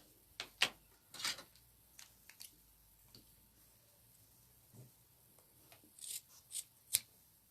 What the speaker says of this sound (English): clip our threads close to that, and then we can cut this bit off